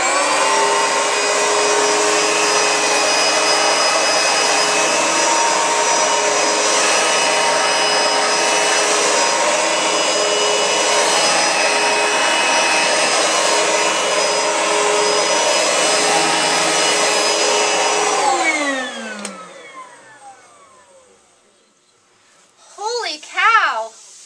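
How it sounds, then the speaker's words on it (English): A Host carpet cleaning system vacuum runs steadily and loudly on carpet for nearly twenty seconds, then winds down and cuts off, followed by a short burst of speech. "go ahead and vacuum it out"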